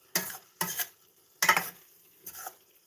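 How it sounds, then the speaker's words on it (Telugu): A lid clatters onto a pan of tomato egg curry in a home kitchen, four short metallic clanks spaced across a few seconds with quiet gaps between. "ఒక రెండు నిమిషాలు ఇట్లా మూత పెట్టేసి"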